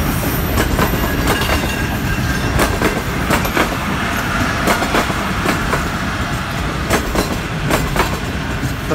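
Sir Syed Express 36 Down crossing Shorkot Cantt junction at night, a loud, steady rush of rolling rail cars with rhythmic clickety-clack wheel beats and faint squeals, close by and with no talk over it.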